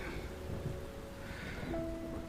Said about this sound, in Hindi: बारिश भी मूसलाधार होने लगी।